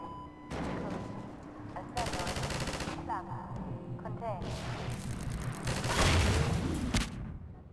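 A mounted turret machine gun in Half-Life 2 hammers out sustained bursts of automatic fire, loud and close, broken by brief pauses and overlapping explosive booms and clatter.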